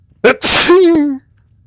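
One loud close sneeze: a quick sharp intake, then a forceful explosive burst trailing into a voiced, wavering tail that ends abruptly, with silence around it.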